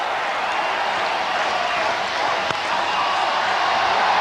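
Cricket crowd at a 1996 World Cup match in Cuttack, India against Kenya, roaring after a boundary off the first ball, a dense, sustained wall of distant stadium noise holding steady throughout.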